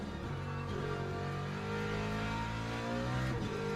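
A BMW race car engine revving hard in a Le Mans racing video game, a steady, loud, harmonic-rich roar rising and dipping slightly in pitch throughout, heard alone.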